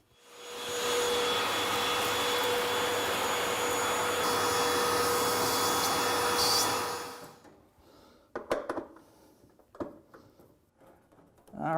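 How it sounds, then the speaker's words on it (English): A vacuum cleaner runs loudly and steadily for about seven seconds while cleaning a Whirlpool-type refrigerator's condenser fan, then shuts off and winds down, followed by faint handling clatter and a renewed burst at the end. "vacuum it up, and then put it all back together again"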